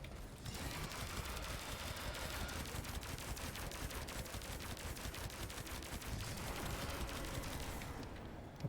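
Rapid automatic gunfire in the Warframe video game, a dense unbroken stream of shots rattling continuously for several seconds at fairly low volume.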